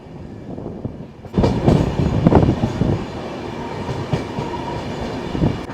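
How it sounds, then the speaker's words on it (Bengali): The 18047 Amaravati Express from Kolkata to Goa climbs slowly uphill behind a double engine, a steady rolling rumble with rhythmic wheel clatter that swells loudly after the first second and holds close and continuous. "ট্রেন কিন্তু এখন প্রচণ্ড ধীর গতিতে যাচ্ছে, কারণ ট্রেন হাইট উঠছে"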